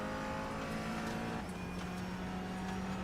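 NASCAR Cup Series car's engine heard from inside the cockpit on the final lap at Kansas, a steady droning hum with a constant tone that drops slightly in pitch partway through, fairly quiet.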